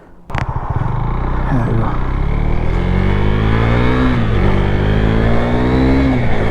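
A KTM Duke 390 motorcycle on its standard exhaust pulls away hard, its engine note rising steadily through the revs, loud and close, with a brief spoken remark over it.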